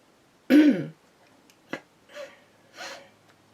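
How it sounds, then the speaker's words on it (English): A person with sinus trouble gives a sharp cough, followed by several softer throat clears and small rasping sounds spaced a second or so apart, close to the microphone. "I'm just going to cough here."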